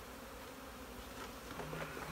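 Honeybees drone in a steady, close buzz while a hive box is moved during installation into a temporary home, with a few louder, higher passes of individual bees near the end.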